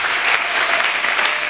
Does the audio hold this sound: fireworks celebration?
no